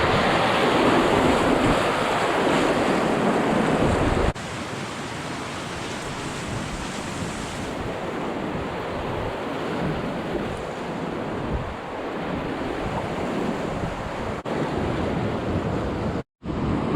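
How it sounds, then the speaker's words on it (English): White-water rapids on a river roar continuously and close by. Wind buffets the microphone now and then, and no one speaks. "It's white water."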